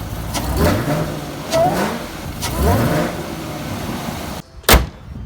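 A boosted Chevrolet Camaro engine roars and revs in several rising surges close by, ending in a sudden cutoff and a sharp thump.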